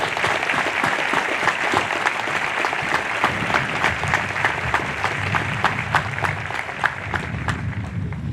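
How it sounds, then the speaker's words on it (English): Steady, full applause from a large crowd at a Nuclear Power School graduation ceremony, sustained throughout with dense overlapping claps and no voices on top. "I want to make sure that we give them all their welcomed applause."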